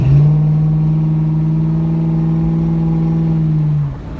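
A 2001 Ford Mustang GT engine with a large stall converter holds a loud, deep, steady drone for about four seconds, then drops off abruptly, heard close and alone.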